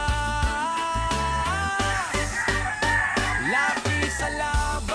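Roosters crowing and chickens clucking at a farm raising gamefowl stags, several loud overlapping crows close by with clucks and cackles underneath, no voices.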